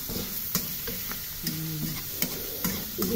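Mussels being sautéed in a hot pan with moringa leaves, a close steady sizzle with intermittent scraping and clinking of a ladle stirring against the pan, no talk over it.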